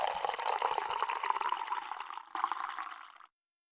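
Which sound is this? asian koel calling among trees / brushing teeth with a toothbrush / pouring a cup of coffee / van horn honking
pouring a cup of coffee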